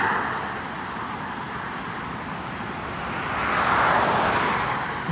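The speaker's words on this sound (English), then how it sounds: "A car passing through here this afternoon." A car passes on Route 390 southbound near Greece, New York, heard as a steady traffic rumble that swells toward the end as it draws closer.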